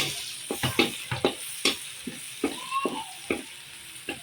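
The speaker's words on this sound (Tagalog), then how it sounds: "Maggisa na tayo ng bawang." Garlic sautéing in a pan for pork pochero, with soft steady sizzling under a series of scraping stirs and clinks of a utensil against the pan.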